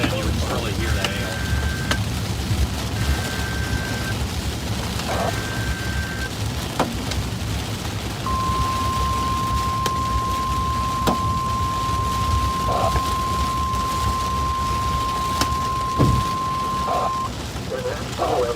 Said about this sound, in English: Just the newer vehicles, the metal is so thin, you can really hear the hail.